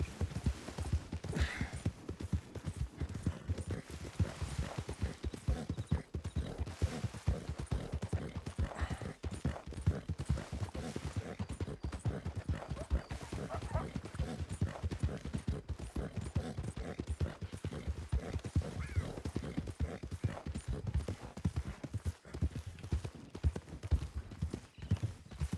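Horse hooves clip-clop steadily and close in a Red Dead Redemption 2 ride, a continuous galloping rhythm across the whole stretch with an occasional whinny.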